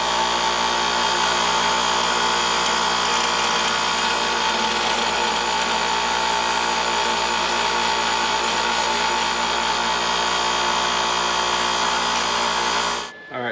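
A power drill runs continuously as it bores holes through a steel plate fitted against a car's firewall during a brake booster delete, a steady loud whine that cuts off abruptly at the end.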